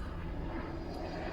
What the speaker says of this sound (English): Another plane. Oh, that's a helicopter taking off.